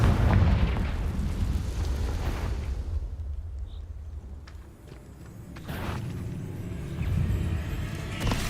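A Confringo blasting spell goes off in Hogwarts Legacy as a loud, deep explosion that rumbles away into quiet, followed by lighter crackles and smaller bursts of spell effects.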